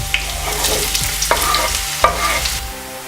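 Garlic and onion frying until golden brown for stuffed capsicum, a close steady sizzle broken by sharp spatula clacks and stirring scrapes against the pan.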